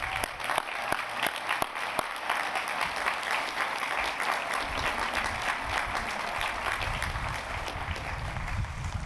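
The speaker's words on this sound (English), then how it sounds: "So join me in giving them a big round of applause." An audience at a university class day ceremony breaks into applause, starting with a few sharp scattered claps that quickly swell into steady, full clapping from a large crowd filling the hall.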